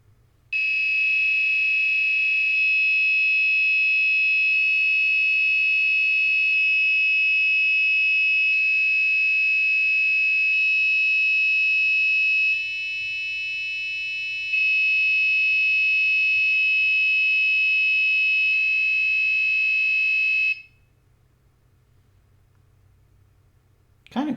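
A homemade digital piano circuit emits a loud electronic beeping tone, held as a long series of steady notes about two seconds each with one short gap, before cutting off to quiet hum.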